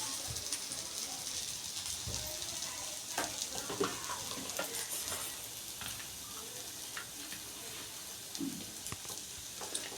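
Rava appam batter of semolina and curd frying in an appe pan, a soft continuous sizzle with occasional small ticks and pops, close and moderately quiet, alone without talk.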